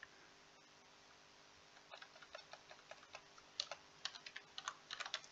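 Typing on a computer keyboard, quiet at first, then a run of sharp irregular keystroke clicks growing denser and louder toward the end, close up with no voices.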